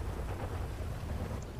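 Deep thunder rumbles low and continuous beneath a faint rain-like hiss, a distant, muffled storm roll with no one speaking.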